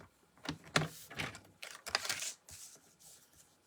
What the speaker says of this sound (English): And I go ahead and cut the whole sheet.